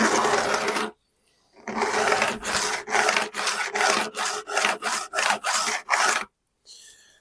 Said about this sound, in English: I've got quite a coarse file, so you do need to be very, very careful when you're doing this